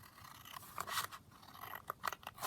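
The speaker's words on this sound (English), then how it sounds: "So all I'm going to do is cut this down" Scissors cut down a paper collage sheet, giving a handful of close, crisp snips and slicing crunches in quick irregular succession with no talking.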